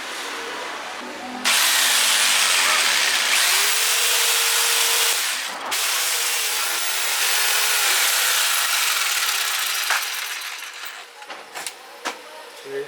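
A scroll saw cuts a rough outline of a toy from solid wood, giving a loud, steady buzzing rasp that runs for long stretches, broken by a few short pauses and a brief stop near the end.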